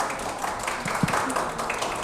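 Dense, steady crowd applause for the teachers at a book launch at the FILBo 2024 book fair, a continuous wash of many hands clapping, fairly loud and without a break for about two seconds.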